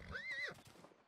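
A single high, wavering horse whinny in the video game Rustler, close and clear, trailing off into a few soft thuds.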